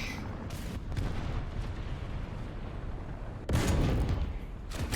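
An M24 sniper rifle fires in a video game, two loud single shots with booming reports, the second sharper and closer, separated by a few seconds of low background rumble.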